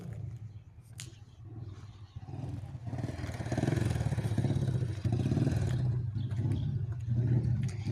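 A motorcycle passes by, its low engine rumble building from quiet to a steady drone that holds to the end, with faint clattering mixed in.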